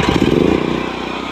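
Petrol chainsaw engine at a junkyard, already warmed up, starting and revving in a brief loud burst close by, then dropping back to a rough idle.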